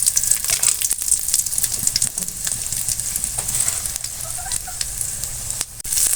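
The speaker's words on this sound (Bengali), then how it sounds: "তেলটা গরম হয়ে গেছে। আমি কিছু শুকনো মরিচ দিয়ে দিচ্ছি।" Dried red chillies fry in hot oil with a loud, steady, continuous sizzle and faint stirring, during preparation of a Malabar spinach stir-fry.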